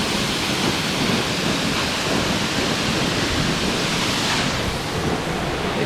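Virginia Falls, a waterfall in Glacier National Park, roars as a steady, dense wash of rushing water close by, unbroken and loud throughout with no voices over it.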